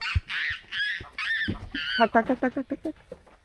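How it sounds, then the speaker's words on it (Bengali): Ducks quack loudly and close by, first in drawn-out honking calls, then a rapid run of short, rhythmic quacks. "এই যে হাঁস দেখেছো?"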